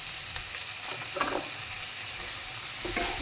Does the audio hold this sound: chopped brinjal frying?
yes